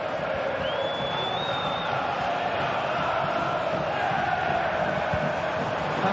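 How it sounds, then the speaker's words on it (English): Steady roar of a stadium crowd cheering in a football video game, a dense continuous wash of massed voices held at an even level throughout with a faint whistle-like tone rising briefly early on. "The crowd encouraging him to take it on."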